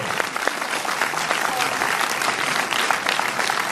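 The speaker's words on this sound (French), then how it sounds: "Je voudrais que vous fassiez un tonnerre d'applaudissements pour la seule femme de cette équipe, Mademoiselle Isabelle Huppert." A film premiere audience breaks into dense, sustained applause, loud and steady throughout with a lively crowd texture and no clear speech on top.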